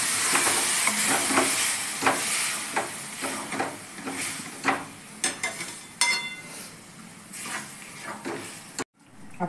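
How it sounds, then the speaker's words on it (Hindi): Water poured into frying mustard masala for a drumstick (sahjan) vegetable dish sets off a steady close hissing sizzle in the pan, with scattered sharp crackles and spatters and stirring scrapes throughout, ending abruptly. "अब इसमें हम पानी डाल देंगे, मिक्सी का जार में जो मसाला लगा था ना उसमें पानी डाल के और इसको डाल देंगे।"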